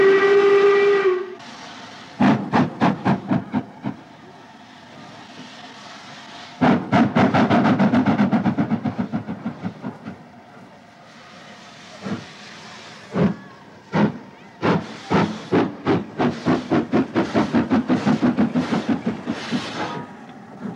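Ex-LMS Black Five steam locomotive from 1937 working a train in Scotland, with loud bursts of rhythmic chuffing from the exhaust that come and go, plus a steady whistle tone near the start and no talk.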